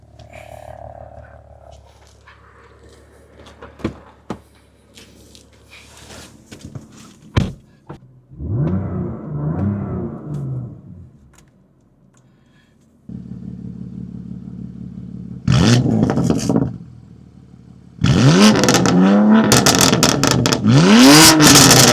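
A BMW M4 engine starts and revs up as the car sets off for a drive, with loud rising throttle blips and a steady engine drone building toward the end after some quieter clatter and handling noises.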